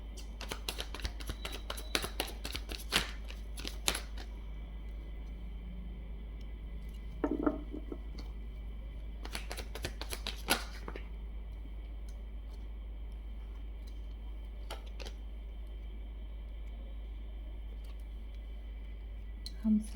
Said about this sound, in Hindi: हम सारे कार्ड निकालेंगे एक बार में